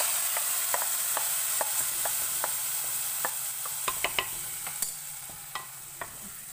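Freshly roasted ground garam masala poured into a bubbling beef and raw plantain curry gives a soft, steady sizzle, punctuated by sharp spoon-against-pot stirring clicks, close and without speech.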